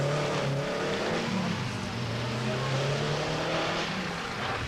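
Renault 5 Turbo rally car at the 1981 Monte Carlo Rally, its engine roaring steadily with shifting revs and a rough, gritty edge, loud and close throughout.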